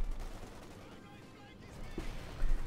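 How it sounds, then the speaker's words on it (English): Mortars and rifle grenades explode in a Company of Heroes 2 battle between Wehrmacht and US forces, heard as scattered, fairly faint blasts and gunfire rumbling under a muffled battle din, with a heavier thump near the end. "Mortars, rifle grenades all going off here."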